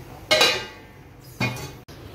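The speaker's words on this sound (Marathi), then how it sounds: "झाकण देऊन ठेवू आपण, मग नंतरला बघूया." A lid set down on a cooking pot of Agri-style dried fish curry makes two short metallic clinks about a second apart, close and fairly clear, with nobody talking.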